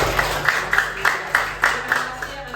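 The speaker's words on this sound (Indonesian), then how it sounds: "Tepuk tangan dulu buat kita semuanya." A group in a teacher-training classroom claps together in a steady rhythm, with sharp bursts of hand claps repeating about every half second, fairly close and alone without talk over them.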